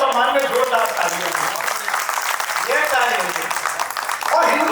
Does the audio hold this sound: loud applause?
yes